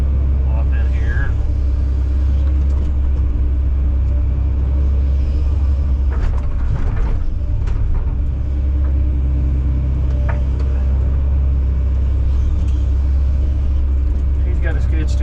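A skid steer's diesel engine rumbles steadily and close at a site where a structure is being torn down, a deep continuous drone lasting throughout, with people talking over it.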